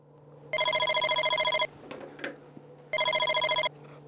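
A telephone rings while a caller dials a support center number, giving two bursts of bright electronic ring tones separated by a pause, loud and close, with faint background noise and no speech.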